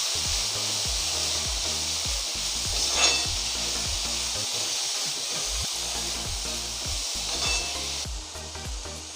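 Dry shrimp (jawla) fries in a pan over a low flame, giving a continuous close sizzle with scraping and stirring at fairly regular intervals. Level stays steady, with no talking.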